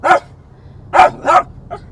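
Dog barking from inside a car, three sharp loud barks spaced about a second apart followed by a fainter short yip, with no talking.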